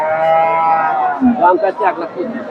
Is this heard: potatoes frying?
no